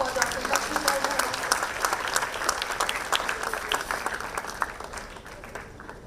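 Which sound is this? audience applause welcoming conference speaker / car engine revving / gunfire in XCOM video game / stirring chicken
audience applause welcoming conference speaker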